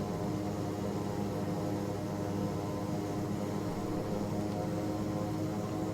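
Steady, droning hum of a Black Square Bonanza turboprop engine held at 2000 RPM in a flight simulator game, a constant, even roar with no breaks and no voices.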